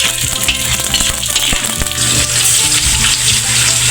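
Garlic fries in rendered pork fat, a loud, steady crackling sizzle with sharp pops scattered throughout, close and continuous with no talk.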